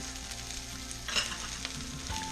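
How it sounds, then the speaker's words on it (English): Brussels sprout leaves and green onions sauté in oil with salt, pepper and garlic, a soft continuous sizzle with a few brief utensil clinks and scrapes. "Saute that in some oil, salt, pepper, a little bit of garlic"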